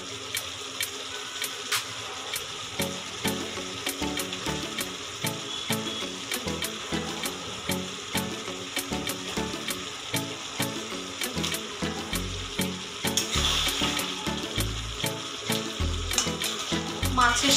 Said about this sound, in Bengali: মশলাটা খুব ভালোভাবে কষে গেছে এবার আমি মাছগুলো দিয়ে দেব